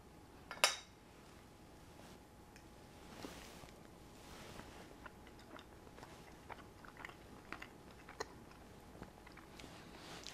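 Cutting into and chewing a sake-marinated ramen egg, a sharp clink of a utensil early on, then quiet, close chewing and soft mouth sounds over a faint background hiss.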